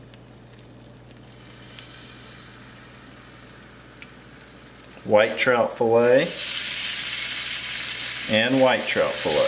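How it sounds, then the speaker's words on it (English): Steady frying sizzle from speckled trout fillets in hot grease throughout, with a person speaking briefly over it in the second half. "Listen to them sizzle."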